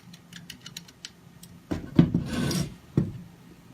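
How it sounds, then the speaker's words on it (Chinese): M4×8 screws are slid into the groove of an aluminium framework profile, giving a few faint light ticks followed by a closer scraping rub and a sharp click near the end. "然后将 M4×8的螺丝嵌入凹槽中"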